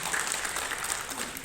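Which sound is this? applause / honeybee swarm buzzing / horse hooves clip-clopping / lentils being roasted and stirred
applause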